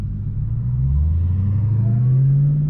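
A 2016 Dodge Challenger Hellcat running hoodless accelerates under manual paddle shifts, its engine note climbing steadily and loud and close for the whole stretch, with a deep rumble beneath and no talk.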